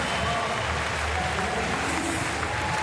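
A crowd claps warmly in the Porte de la Chapelle Arena in Paris at a Paralympic para powerlifting final, a dense, steady roar of applause filling the hall without a break.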